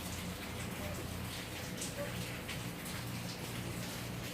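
Rain falling in Korea during a flash-flood warning, a steady close patter and hiss of drops on surfaces continuing throughout, with a voice speaking over it.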